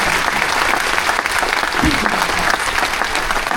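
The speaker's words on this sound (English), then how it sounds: "A big round of applause one more time." Audience applause at a military appreciation gathering aboard a cruise ship, steady and dense clapping from a room full of people throughout.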